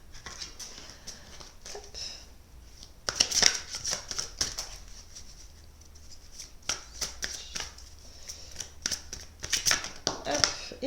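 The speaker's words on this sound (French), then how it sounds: "Alors elles sont très grandes, un petit peu difficiles à mélanger." Large chakra oracle cards being shuffled by hand in bursts of crisp riffling and slapping, close and moderately loud, with quieter pauses between and a voice talking at times.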